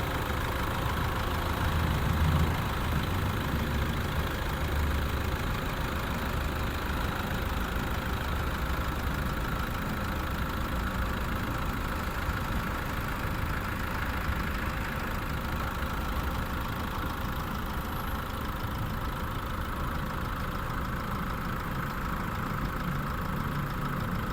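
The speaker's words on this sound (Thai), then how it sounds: "ตอนนี้หนูสตาร์ทแล้วนะคะ เครื่องยนต์กำลังทำงานอยู่ค่ะ" A 2012 Toyota Hilux Vigo Champ 2.5G pickup engine idles steadily and evenly for a long stretch, a low continuous rumble with a faint knocking texture, no voices.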